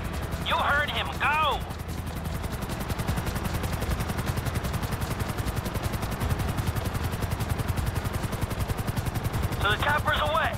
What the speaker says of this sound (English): bringing the chopper back around